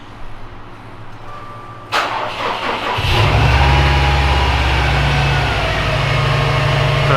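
A car fitted with an R400 catback exhaust and tuned downpipe cranks and fires up, the engine catching loudly and settling into a deep, steady idle that holds to the end.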